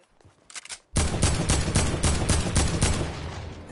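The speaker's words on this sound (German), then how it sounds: "Mann, mein scheiß Bruder knallt mich ab" Rapid automatic gunfire in the video game Fortnite, a dense burst of repeated shots that starts abruptly after a faint moment and rattles on steadily, loud and close, with no talking over it.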